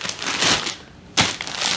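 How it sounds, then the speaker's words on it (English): A plastic package of Depends adult diapers crinkles and rustles loudly up close, with a short pause before a sharp renewed burst of crumpling. "these are the Depends diapers."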